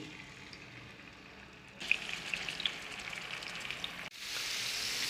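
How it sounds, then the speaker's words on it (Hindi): Marinated chicken laid onto a hot tawa of oil bursts into loud, close sizzling after a quiet start, keeps crackling, cuts out for an instant, then resumes at full strength. "तवा चिकन के लिए हमने चिकन को अच्छी तरह फ्राई करने के लिए रख दिया है।"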